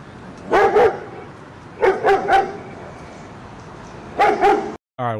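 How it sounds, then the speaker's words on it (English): A dog barks in three separate bursts of two or three barks each, fairly close and loud, with quiet gaps between them and no talk. "nobody wants to listen to the dog bark"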